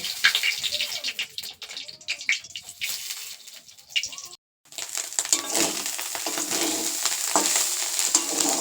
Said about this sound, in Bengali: এনেছি এই ছোট চিংড়ি এগুলো ভেজে রেখে দেবো কালকের জন্য